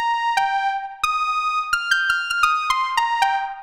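A Roland JX-3P analog synthesizer patch plays sharp, snappy-attack bell-like notes in a sparse melodic line, each note struck cleanly and ringing briefly with bright harmonics, close and clear with no voices.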